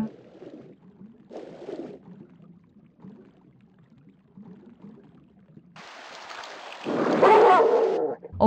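Dog barking in the video game Tomb Raider 2, Bartoli's Hideout level: a few short barks with quiet gaps between them, followed by a louder burst of broadband noise near the end.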